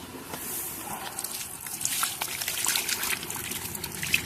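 Water and crucian carp pour and splash from a bucket into a small river, a soft trickling and sloshing with scattered splashes, fairly quiet and close, no talk.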